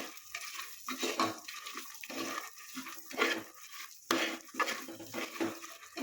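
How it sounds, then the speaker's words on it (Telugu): A spoon scraping and clinking in a pan as toor dal is stirred into a tempering with dried red chillies, in repeated close metallic strokes with soft shuffling between them and no speech. "ఇప్పుడు మనం దీనిలో కందిపప్పు వేసుకున్నాము ఇదంతా బాగా కలిపేసుకుందామండి"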